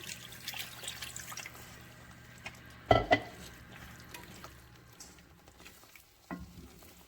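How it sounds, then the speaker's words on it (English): Gravy being stirred in a pan while cooking cube steak over near-high heat, a soft ongoing scraping and sizzle with a couple of sharper clanks of the utensil against the pan partway through. "Keep stirring. Don't stop stirring. Keep stirring."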